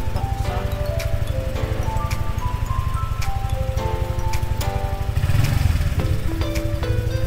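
A Honda motorcycle engine fitted with a Vtech booster runs close by at a dealer workshop, a loud, even, throbbing putter that swells briefly as it revs near the end.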